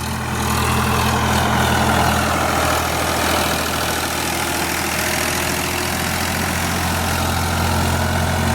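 Close, steady idle of a tractor engine on a farm, a continuous low mechanical drone with an even hum that holds unbroken throughout, no speech over it.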